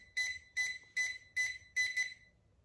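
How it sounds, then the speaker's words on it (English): A drone remote controller beeps after losing its connection, giving five evenly spaced, shrill electronic chirps about half a second apart, the last one doubled, clear and close in a quiet room. "The remote will beep if it loses connection."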